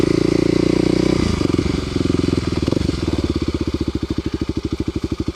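A Kawasaki KLX250SF motorcycle engine pulls under throttle on a trail ride, a loud close rumble that settles into a rapid, evenly pulsing thump as the revs drop, with no speech.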